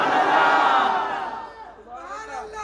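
A large crowd at a Mehfil-e-Milad religious gathering in Baba Fareed Park, Arif Wala, loudly chants 'Subhan Allah' in unison, a dense roar that swells and then fades, leaving a few fainter voices.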